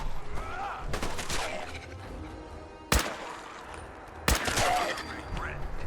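Sharp gunshots crack in the video game Fallout 4, a few scattered bursts with two especially loud blasts spaced seconds apart over low game ambience.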